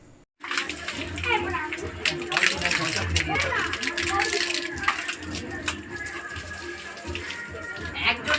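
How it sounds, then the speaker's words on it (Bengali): Water splashes and pours continuously over several people bathing together outdoors on a hot summer day, with children's voices and chatter mixed in throughout. "আমাদেরই গায়ে জল যাচ্ছে"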